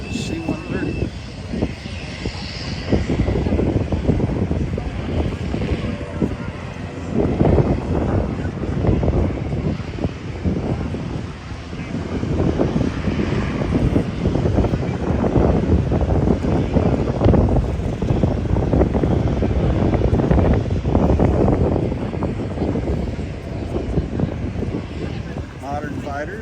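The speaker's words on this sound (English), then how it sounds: "And the J-Model Hercules C-130." A J-model C-130 Hercules military transport plane roars with a loud, sustained propeller-engine rumble, heavy wind buffeting the microphone and voices talking underneath.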